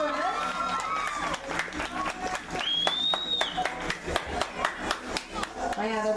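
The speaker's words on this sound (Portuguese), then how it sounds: "E aplausos para o nosso homenageado, né?" Applause from a small crowd at a romantic tribute event, claps building into a steady patter of separate hand claps with a voice talking over the start.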